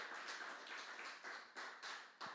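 A church congregation clapping in praise, quick uneven bursts of hand claps in a steady rhythm, moderately close and fairly quiet.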